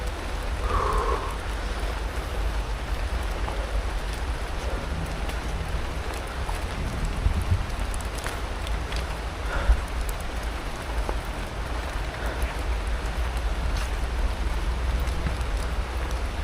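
Rain falls steadily in a misty forest, a dense even hiss of drops on leaves and the ground that goes on alone for the whole stretch, with a few slightly louder drips now and then.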